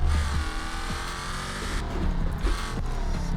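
A Bolide race car in BeamNG Drive roars loudly on track, its engine revving and shifting in quick bursts with brief tire squeal as it slides through corners.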